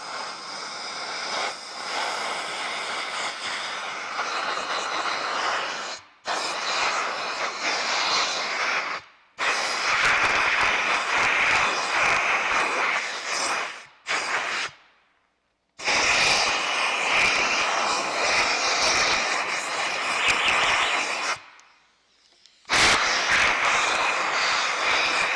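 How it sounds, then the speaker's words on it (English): Compressed air blasts through a cylinder bore to clear out machining shavings, a loud steady broadband hiss in several long bursts separated by brief silences. "we'll just blow air through here, which will remove all the shavings."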